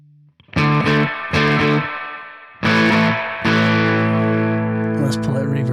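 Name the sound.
electric guitar through tc electronic Ampworx preamp, gain adjusted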